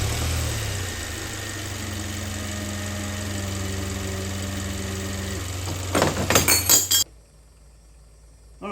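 Hyundai car engine idling with the A/C compressor running, a steady low hum holding for about seven seconds, broken near the end by a brief burst of clinking and rattling before the engine sound cuts away.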